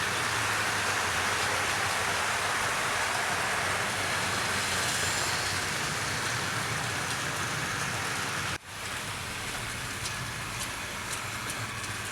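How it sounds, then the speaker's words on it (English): A Hornby 2800 Class model freight train runs steadily with a continuous whirring rumble and rattle of wheels on track, broken by one brief dip partway through. "getting faster and faster, that freight train is"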